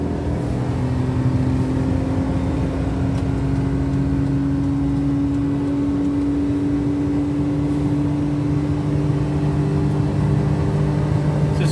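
A tiny 1996 Daihatsu Midget II one-seater cruising on flat ground at 100 km/h, its small engine screaming in a loud, steady high whine with a constant droning hum beneath it, no talk.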